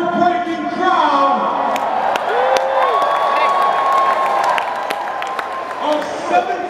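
A huge record-breaking wrestling crowd of more than 75,000 at WrestleMania 33 roars and cheers steadily in a vast stadium, with whoops and shouts layered over the sustained wall of noise and a voice rising briefly above it.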